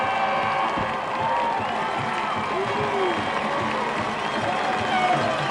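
A high school football crowd at the 1995 Montana AA state championship, Billings Skyview against Bozeman High, roars and cheers continuously after a touchdown, a dense sustained wall of noise with an announcer's voice faintly beneath.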